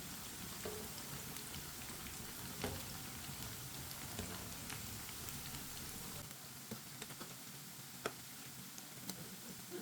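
Shimla mirch pakoras frying in hot oil, a steady dense sizzle with crackles and pops that continues throughout, close and moderately loud.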